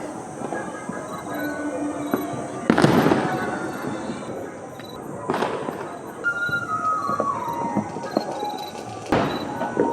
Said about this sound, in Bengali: চারিদিকে দেখো বাজি ফাটছে